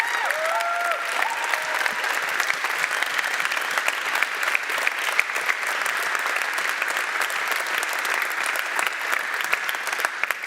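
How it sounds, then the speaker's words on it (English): A large audience at a pod reveal launch event claps steadily and loudly throughout, dense continuous applause with no talk over it. "this is your applause"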